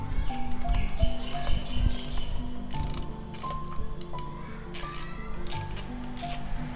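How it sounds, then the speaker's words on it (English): Rapid, uneven bursts of metallic clicking from a ratchet wrench with an extension, loud and close, coming in short runs with brief pauses between them. "The sound of ratchet is oddly satisfying"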